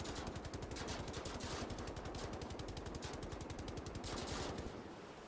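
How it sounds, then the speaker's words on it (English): Rapid automatic gunfire in the first-person shooter Wolfenstein: The New Order, a loud, dense, steady stream of shots lasting several seconds before easing off at the end. "what if I shot it with this gun?"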